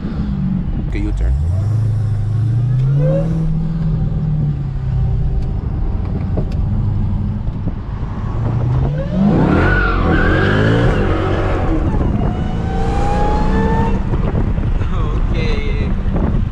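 Dodge Hellcat engine revving and rising in pitch while driving, loud and close inside the car with steady road and wind roar; sharp exhaust pops are hard to pick out, and a voice talks over parts.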